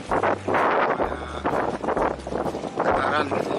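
Strong wind gusts at sea during a morning fishing trip for rabbitfish, buffeting the microphone in loud, low rumbles while someone talks over it.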